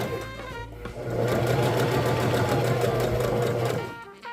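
A sewing machine stitching a half inch seam allowance, a close, steady rapid mechanical whir that starts up, runs continuously, then slows and stops.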